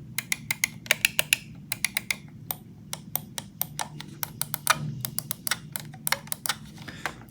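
Corsair M75 Air Wireless gaming mouse buttons being clicked rapidly and steadily, crisp close ticks in dense runs with brief gaps, over a low background hum.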